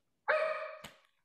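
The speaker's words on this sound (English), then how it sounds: "I thought that was my dog for a second there." A single dog bark, faint and somewhat distant, one short tonal yelp followed by a brief thump, alone without talk.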